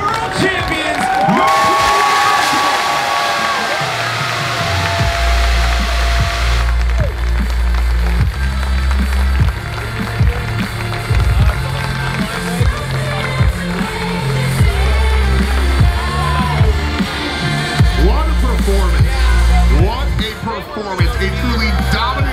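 Arena crowd at a CRL 2022 world championship esports match at DreamHack cheering, whooping and applauding loudly for the champions, with a throbbing music bed and an announcer's voice over the roar.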